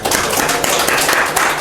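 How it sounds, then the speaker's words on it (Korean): A church congregation claps in welcome for first-time visitors at a Sunday service, dense steady applause lasting the whole moment without pause. "박수로 환영을"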